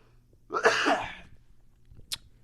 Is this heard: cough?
yes